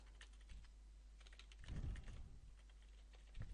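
Keys on a computer keyboard tap in a quiet room, soft scattered clicks with a brief denser burst of typing partway through, no voices.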